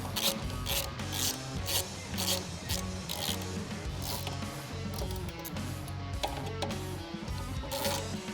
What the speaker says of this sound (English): we can take a 4mm Allen key. I'm just using an Allen socket here, and we can go ahead and tighten those down